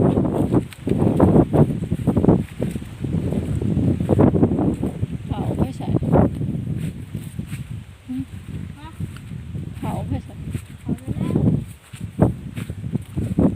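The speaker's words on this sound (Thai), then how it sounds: "ลมแรงมากเลยท่านผู้ชม" Strong wind roars through a forest on a mushroom-hunting trip, a steady loud rush with gusting swells and rustling, the blustering going on without pause.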